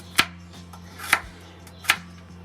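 A knife chops carrots into thick pieces on a cutting board, three sharp evenly spaced thuds close by in a quiet kitchen while a lamb shank dish is prepared.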